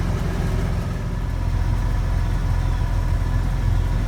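A 1999 Infiniti QX4 engine runs at idle with a gasoline smell and a leaking fuel filter line, giving a loud, steady low rumble that holds an even level throughout.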